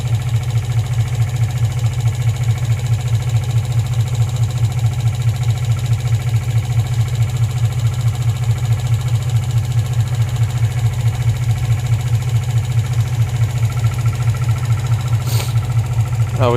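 A 2003 Infiniti G35 idles at low RPM with a misfire, giving a close, steady, rhythmic engine thrum with a regular pulsing beat throughout, and no talking.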